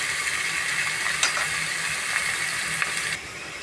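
Chopped green chillies frying in a pan for a moong dal punukulu curry, a steady close sizzle with a few faint scraping clicks and no talk.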